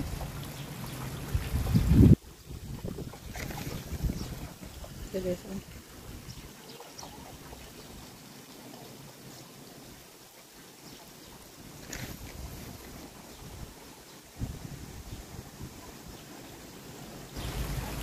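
Steady wind rushes outdoors, gusting and buffeting the microphone with low rumbles, strongest at the start and rising again in places.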